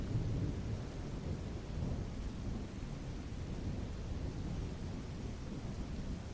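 Steady heavy rain with a deep thunder rumble makes a dense, even wash of noise that never lets up, loud and close, with no voices.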